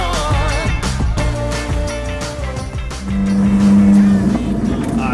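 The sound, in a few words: supercar engine revving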